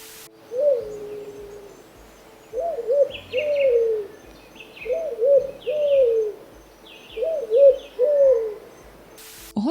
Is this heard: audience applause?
no